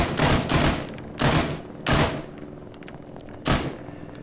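Four short bursts of PKP Pecheneg machine gun fire in ARMA 3, each loud and sharp, separated by brief pauses, with no talking.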